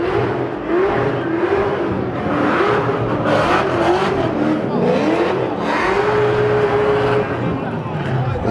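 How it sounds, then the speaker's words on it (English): Cars drifting at the Hoonigan stand in Las Vegas, a steady loud roar of revving engines with wavering pitch and tire noise, continuous throughout with crowd chatter underneath. "Looks like they're doing a bit of drifting."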